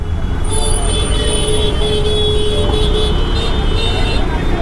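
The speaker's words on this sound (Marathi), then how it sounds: "जो पण माझ्या मागे एवढा हॉर्न वाजवतोय" A vehicle horn blares from behind in heavy traffic, a loud, sustained, steady tone holding for several seconds over a rumbling road background.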